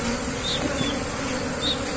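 Worker bees hum in a steady, close swarm at a hive box, an unbroken buzzing drone at even loudness with no voices.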